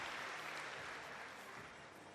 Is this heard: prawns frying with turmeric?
no